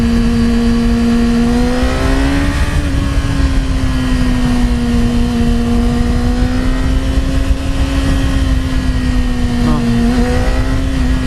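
A 2017 Yamaha R6 motorcycle on a test ride holds a loud, steady engine drone around mid revs, rising and falling slightly in pitch with throttle changes, accompanied by wind rush throughout.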